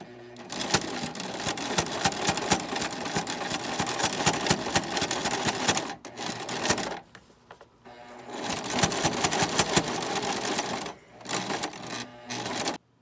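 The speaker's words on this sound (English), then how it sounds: "So both sides have been zigzag stitched." A sewing machine zigzag stitches the fabric edges of a face mask held on a jig. It gives a loud, close, steady mechanical whirr in two long runs split by a short pause, with a brief stop near the end.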